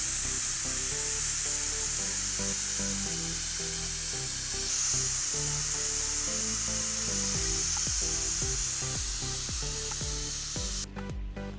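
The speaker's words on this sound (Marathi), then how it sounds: "कुकरमधली सगळी एअर काढून घेऊ आपण" A pressure cooker of chicken pulao vents its steam on a kitchen stove, giving a steady, loud hiss that runs for several seconds over background music.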